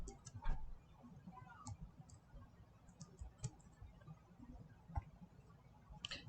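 A computer mouse clicks while someone logs into a learning management system. Soft, scattered clicks and ticks sound close in a quiet room, with no talking.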